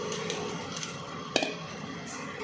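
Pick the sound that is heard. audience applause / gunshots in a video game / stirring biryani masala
stirring biryani masala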